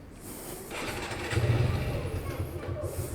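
A motorbike engine starts up and settles into a low, rumbling idle before a short local ride, close by, with a voice over it.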